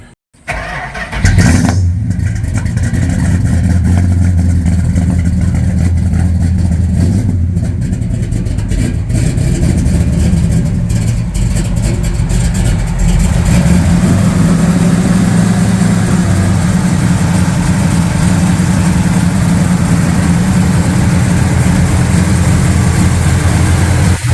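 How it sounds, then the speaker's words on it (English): A 426 Hemi V8 in a 1970 Dodge Charger R/T custom starts with a sharp crank, then roars loudly and steadily, revving and idling close by with a deep rumble. "This is just a beautiful, beautiful engine."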